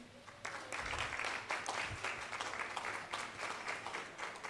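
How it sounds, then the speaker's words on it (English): Audience applause fills a conference hall at the 876 Get e-commerce summit in 2022, a dense, steady wash of many hands clapping at moderate distance, continuing without a break for several seconds. "give yourselves a round of applause for being here"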